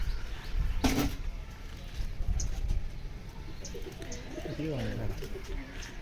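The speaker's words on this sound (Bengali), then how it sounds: "এটা পিওর আন্দ্রা পায়রা" Andra pigeons in a loft, soft low cooing near the end beneath faint background noise, with a voice speaking nearby.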